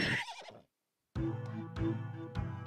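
A horse neighs in the video game Endroll: one loud whinny, a pause of near silence, then a long harmonic neigh with strong repeated pulses, close and clear, with no talk.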